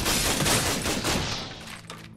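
Rapid gunfire from Hyperion SMGs in the video game Tales from the Borderlands, a loud, dense burst of shots that fades slightly toward the end, with no speech.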